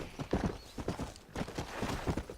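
Horse hooves clip-clopping in the video game Red Dead Redemption, a steady rhythmic series of close, distinct hoof strikes at a walking or trotting pace, with no speech.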